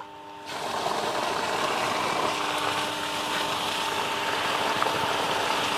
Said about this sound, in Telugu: మీ మోటార్ స్టార్ట్ అయినది.